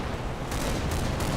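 A Bradley fighting vehicle's cannon in the game Combat Mission: Black Sea lets out rapid, loud, thudding shots in quick succession over a dense background rumble, with no voices.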